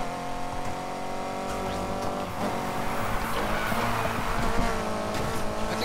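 A Mitsubishi Evo drives in Need for Speed Heat, its engine droning loud and close without a break, rising slightly in intensity, with hints of tire noise over the steady roar.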